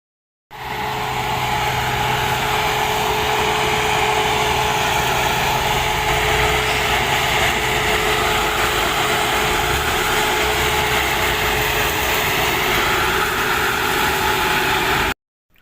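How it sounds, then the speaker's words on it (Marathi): A sugarcane harvester engine runs steadily and loudly close by with a constant droning hum, starting suddenly and continuing without voices. "थोड्याच वेळात ऊस कट करायचं मशीन पण स्टार्ट होईल"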